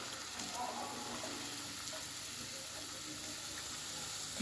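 Chicken stew goes into a pot of soup and sizzles steadily, a continuous hiss and crackle under faint stirring, moderately quiet throughout.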